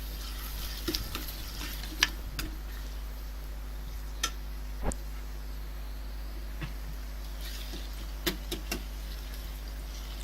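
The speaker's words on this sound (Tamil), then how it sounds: "இப்போ கட் பண்ணி வச்ச தக்காளி, மிக்ஸ் பண்ணி கொஞ்சம் நேரம் வேகட்டும்." Chopped tomatoes cook in hot oil in a pan, giving a soft, steady sizzle broken by occasional sharp clicks and taps from stirring.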